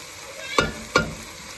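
Flat iron steak, thin and heavily marbled, cooking in a pan; two sharp sizzling bursts stand out close by against a quiet, steady background with no talk.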